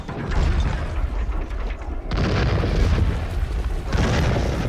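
Cannon fire in the video game The Bluecoats: North & South booms out in heavy, rumbling blasts, two loud explosive bursts rolling one after another with long low decays and no talk.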